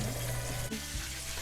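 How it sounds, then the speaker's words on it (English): Dense, steady sizzling and crackling of chicken frying in hot oil, close and continuous, with no talk. "while the chicken is frying"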